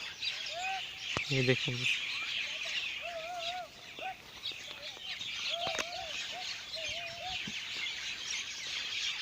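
Birds chirp and tweet at dusk in a village, with short, repeated calls scattered over steady outdoor background noise, fairly faint and distant. Someone says a few words.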